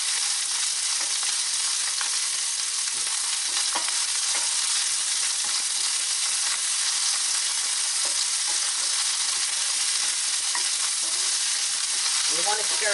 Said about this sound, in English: And you want to stir it the whole time that it's cooking.